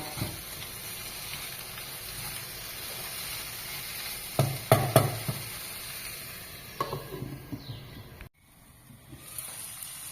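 Ripe tomatoes sauté in masala for a chicken curry with a low, constant sizzle, punctuated midway by a burst of stirring clatter and scraping before the sound briefly drops away.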